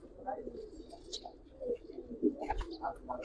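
Giribaz pigeons, with their young nearby, coo in soft low rolling phrases that repeat over a faint, busy background.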